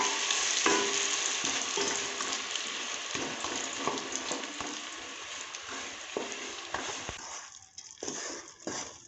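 Jaggery melting in hot ghee in a pot, a dense steady sizzle with scattered soft stirring scrapes and taps, close and fairly even before easing near the end.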